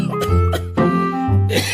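A cartoon character coughs in a Filipino animated comedy, a few harsh voiced bursts close and loud over a bed of music, with no one speaking.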